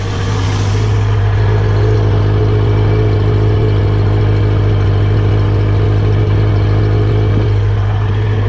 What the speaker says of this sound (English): I'll just show you the idle of the bike.